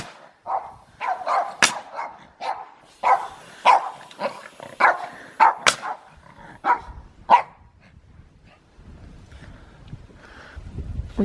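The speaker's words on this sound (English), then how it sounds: "The dog has a little problem with the air compressor." A dog barks repeatedly at an air compressor in irregular bursts, loud and close, with some growling; the barking tapers off and low rumbling noise fills the end.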